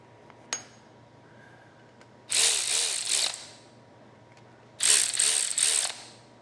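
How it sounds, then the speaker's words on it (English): A hand ratchet clicks on the bolts of a Dana 36 rear end from a 1957 Chevy truck, with two quick bursts of rapid close metallic clicks separated by a quiet pause and no talking. "then I'll get on them with a 6-point and a torque wrench"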